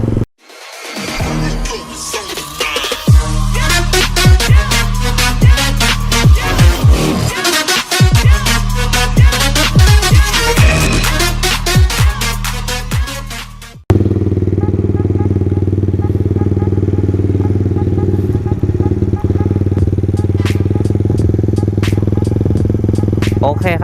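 Kawasaki KSR small motorcycle riding, a close buzzing engine with rapid revving and gear changes, then a steadier droning cruise, with someone talking over it.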